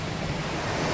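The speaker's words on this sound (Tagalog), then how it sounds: "Ang dinig na dinig nyo ba yung hampas ng dagat mga katolits?" Sea waves crashing on a beach along the shore, heard as a loud, continuous roar of surf with wind noise buffeting the microphone and no voices.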